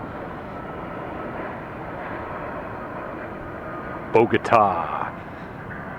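A Boeing 757 arriving on runway 09 right at Atlanta Hartsfield airport, heard as a distant, steady jet roar under a voice, with a short burst of louder noise near the end.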